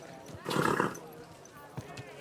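A horse in the medieval game Kingdom Come: Deliverance II lets out a short, loud whinny over hoof noise, fading into quieter ambient movement afterwards.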